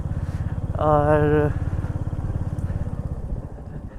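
A motorbike ridden through a valley near Chembra Peak base in Wayanad, its engine chugging in a steady mid-pitched pulse close by, with a voice briefly sounding over it.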